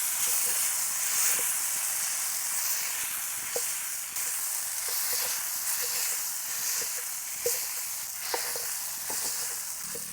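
Brinjal pieces frying in a pan for a spicy village-style vangyacha thecha, giving a steady bright sizzle and hiss with faint scattered clicks and stirring sounds.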